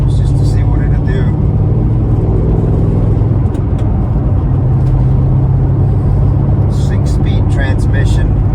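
A 2007 Ford Mustang with a freshly installed engine and 6-speed transmission drives along with a loud, steady engine drone and road roar, while people talk over it inside the car.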